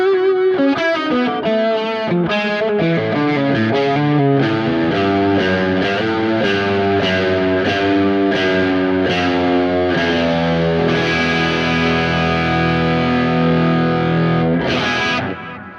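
Electric guitar run through a Creation Audio Labs MW1 studio tool, playing a continuous distorted, effects-heavy passage of sustained chords and notes that blend wet and dry signal; loud and close, with no talking, ending abruptly.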